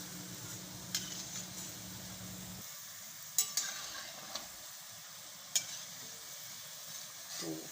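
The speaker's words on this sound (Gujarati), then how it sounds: "એક એક કરીને આ રીતે આપણે ફેરવીએ અને ગોલ્ડન બ્રાઉન થાય ત્યાં લગી આપણે આને તળવાની છે ધીમા ગેસે" Kachori made from moong dal deep-fries in groundnut oil on a low flame, giving a soft, steady sizzle with a few sharp clinks and scrapes of a utensil turning the pieces.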